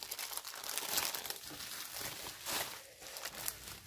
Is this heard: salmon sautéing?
no